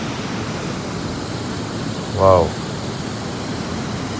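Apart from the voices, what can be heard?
Polluru waterfall at Maredumilli, flowing water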